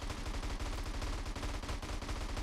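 Rapid automatic gunfire rattles nonstop at a car in GTA San Andreas, a loud, dense string of shots with no pauses and no speech.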